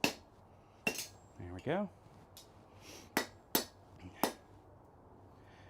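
Metal tool strikes ring out in a smithy as a chisel is worked, about half a dozen sharp, separate clinks with uneven spacing, close and moderately loud, and someone speaks briefly between them.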